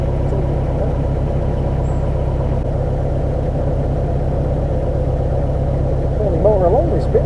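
A narrowboat engine chugs steadily at low revs while motoring along a canal, a close, even throb that runs throughout; a voice talks over it.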